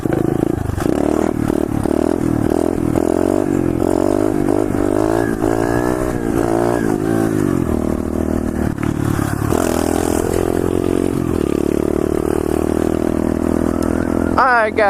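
Pit bike engine revving hard during repeated wheelies, loud buzzing mid-pitched motor rising and falling in pitch through several throttle bursts, with clatter and scraping, continuous throughout.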